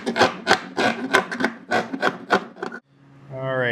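Reaming out a hole to make room for pipe fittings on a homemade car-stroller air-conditioning build, heard as a series of close rasping, scraping strokes in an uneven rhythm, followed by a short whining tone at the end.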